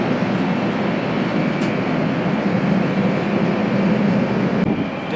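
Steady broadband rumble of a Shinkansen bullet train running, heard from inside the carriage on a trip from Omiya toward Ginzan Onsen, continuous and moderately loud with no talk.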